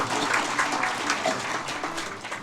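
An audience clapping at a spoken discourse gathering: a short, dense burst of applause heard from a moderate distance, steady and without any talk.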